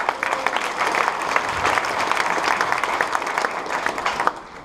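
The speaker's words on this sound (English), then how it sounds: "So a round of applause for them" A conference keynote audience at a big data event claps for the founders of a tech collective, a sustained dense round of applause that tapers slightly near the end.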